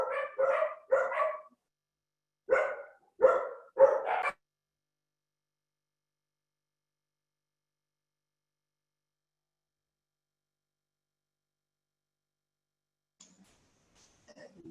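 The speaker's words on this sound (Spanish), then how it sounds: "si escuchan algunos ladridos, son los perros de acá afuera" Dogs bark outdoors in two quick bursts of several sharp barks, fairly close and loud, then silence, with a faint brief sound near the end.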